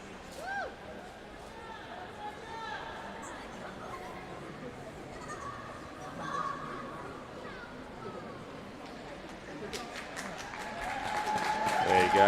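Spectators cheer and applaud at the close of a 1500 metre short track speed skating final at the Australian Open championships, a steady indoor crowd roar that swells louder in the last seconds.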